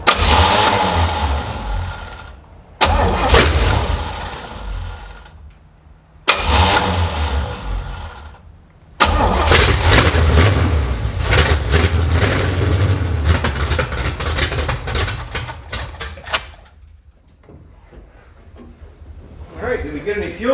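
An old Chevrolet C10 truck, abandoned and parked for ten years, cranks in short bursts and then catches and runs, its engine revving loud and rough before cutting out, with a person talking at the start.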